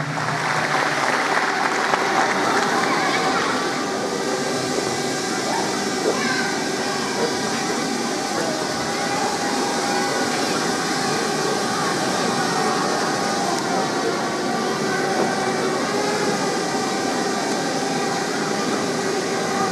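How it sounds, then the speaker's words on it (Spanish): A crowd applauds the children of the municipal folkloric ballet of Zapala at a Flag Day celebration, steady sustained clapping filling the whole stretch, with a tonal hum and some background voices underneath. "Renovamos el aplauso para los chicos del ballet folclórico municipal."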